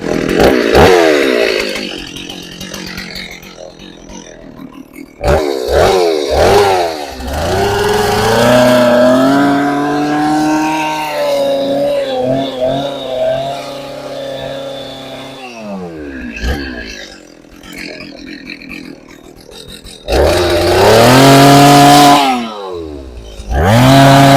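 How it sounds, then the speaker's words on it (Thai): Chainsaw cutting through culms of two-tone Kao Dao bamboo in a bamboo garden, loud and close, with the engine revving and bogging down in long cutting passes and short gaps between cuts. "เป็นการตัดลำนะครับใช้เครื่องตัด"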